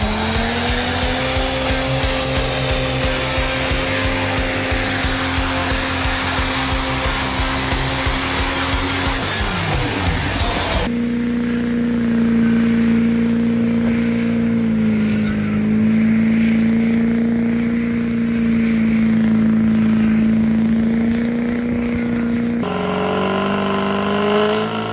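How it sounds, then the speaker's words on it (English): A tuned diesel truck held at high revs, its engine droning loud and steady at a fixed pitch as if pinned against the limiter, with a sudden drop near the middle before the roar resumes and continues. "who doesn't like a diesel like bouncing off the rev limiter and doing massive"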